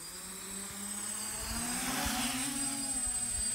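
Quadcopter rotors spin up as the throttle is raised, a steady whirring hum that swells gradually louder over a few seconds.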